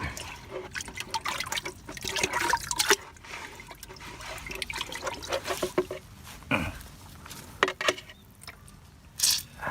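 Water trickles and splashes irregularly while durian trees are watered, with close, uneven pouring and dripping bursts throughout, fairly quiet and without speech.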